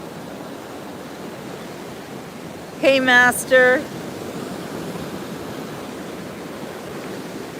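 Steady Gulf of Mexico surf at a Pensacola beach rushes and roars throughout, with a brief spoken greeting cutting in partway through.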